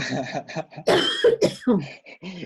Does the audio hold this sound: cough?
yes